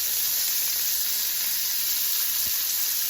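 Half a Vidalia onion lands in a hot pan for a sausage, pepper and onion pizza topping, giving a steady, loud frying sizzle that hisses evenly throughout without any voices.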